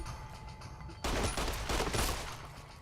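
A sniper rifle fires in the video game Fallout New Vegas, a sudden loud crack with a booming, rumbling tail over game background noise, with no talking.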